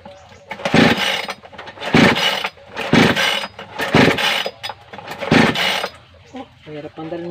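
Repeated pull-starts of a mini chainsaw engine, heard as five loud rasping recoil pulls at a steady rhythm, each a brief churning burst, with no sustained running afterwards; someone talks at the end.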